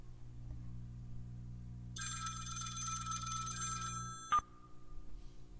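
Telephone ringback on an outgoing call in a VRChat setting, a bright buzzing ring for about two seconds over a steady low hum, then a sharp click as it cuts off, with no voices.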